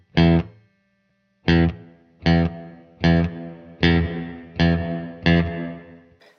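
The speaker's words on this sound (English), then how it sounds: "I have it on plate setting, and it's just a different style of reverb" An electric guitar played through a reverb pedal on its plate setting strikes seven loud, evenly spaced chords, each leaving a shimmering tail that fades before the next, with a pause after the first.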